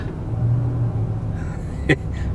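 A Mercedes SL55 AMG's deep, steady engine rumble idles nearby, with a brief sharp knock near the end.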